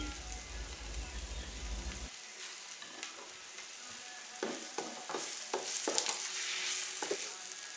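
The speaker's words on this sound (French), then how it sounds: "Et mélangez le tout, bien roussir le tout." Ingredients browning in a pot for rice and red bean pilau, a gentle sizzle with intermittent spoon scrapes and stirring clatter, close and fairly quiet.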